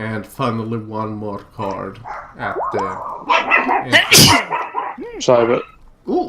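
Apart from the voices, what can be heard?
dog barking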